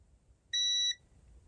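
A multimeter set to continuity mode gives one short, clean, steady electronic beep of about half a second against near silence, tested on the circuit of a faulty LED camping light and power bank.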